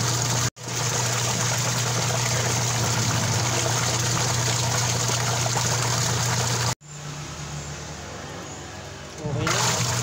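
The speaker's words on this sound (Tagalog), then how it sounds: "Sumasagit-sit yung tubig sa lakas ng kanyang motor." A washing machine spin motor hums steadily with a strong electrical drone while water sprays and hisses continuously, cutting out briefly twice, then resuming with a rising rush of spray at the end.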